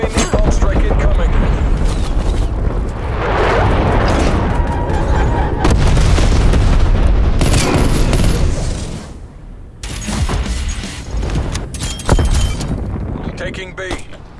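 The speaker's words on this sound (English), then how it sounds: "Enemy missile strike incoming." Heavy booms from an enemy missile strike in Call of Duty Cold War's Nuketown, rolling as a loud, sustained barrage with gunfire-like bursts, then easing off before a few sharper blasts near the end, with a voice talking over the din.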